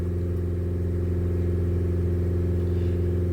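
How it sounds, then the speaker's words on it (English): A Land Rover Discovery Sport with a blocked diesel particulate filter runs at high revs on its own, a steady loud engine drone with a strong low hum and no talk. "this car now keeps on revving up by itself"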